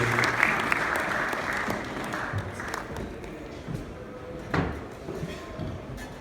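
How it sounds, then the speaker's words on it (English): Audience applause at an Under 25 Summit as a woman walks up onto the stage, a moderate spread of clapping heard somewhat distant with a few louder knocks and thuds mixed in, no speech. "Clap with some noise for her when she walks up on stage."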